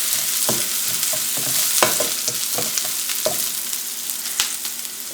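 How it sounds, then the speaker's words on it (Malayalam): Sliced onions sautéing in a pan for a Kerala-style vegetable thoran, a constant close sizzle under repeated spatula scrapes and taps at an uneven rhythm, no speech. "ആക്ച്വലി ഇതിൽ ഈ സവാള വഴറ്റുന്ന പരിപാടി മാത്രമേ ഇത്തിരി സമയം എടുക്കുള്ളൂ"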